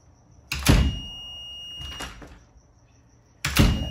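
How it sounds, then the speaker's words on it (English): A door fitted with a magnetic reed switch closing, a few solid thumps with a clunk at the start, another mid-clip and a last one near the end, heard close with a faint steady electronic whine behind. "And then if we close the door,"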